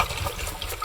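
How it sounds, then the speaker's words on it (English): Water trapped inside a part of a Sunbeam stand mixer sloshes briefly as the piece is tilted, a short close liquid swish. "there's a little bit of water stuck in there."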